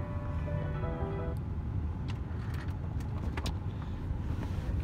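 A car sits in a driveway with its engine running, a steady low rumble heard from inside the cabin, broken by a few faint clicks and rustles.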